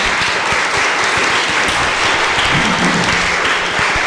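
Conference audience applause in a London hall, loud, dense and continuous clapping from a large crowd that stays steady from start to finish with no speech over it.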